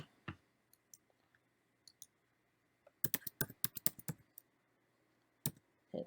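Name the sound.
typing regedit on a computer keyboard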